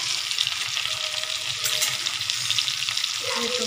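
Turkish kebabs fry in a pan with a loud, steady sizzle and crackle throughout, close up, with faint background noise underneath.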